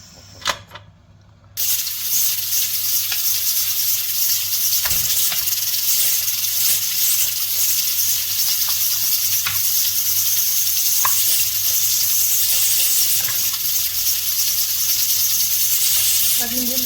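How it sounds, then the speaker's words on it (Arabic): Meat sears in hot vegetable and olive oil inside a pot for a Moroccan artichoke tajine, a loud steady sizzle that starts abruptly after a short quieter opening and continues with faint crackles throughout. "غادي نخلي اللحم يتشحر"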